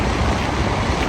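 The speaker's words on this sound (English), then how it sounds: "Waves, jeez." Ocean waves on a beach at Baler in Aurora, Philippines, a loud, rumbling wash of surf mixed with heavy wind buffeting the microphone, continuous throughout.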